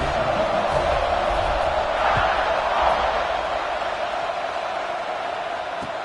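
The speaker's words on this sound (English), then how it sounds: "this crowd is buzzing after that last score" Stadium crowd noise in the NCAA 26 college football video game, a steady dense roar and murmur of spectators late in a tied fourth quarter before a kickoff, continuous and fairly loud throughout.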